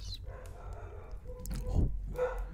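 Several startled dogs bark and yip by a crackling fireside, the burst strongest in the middle and again near the end, heard over a steady low rumble with some background noise.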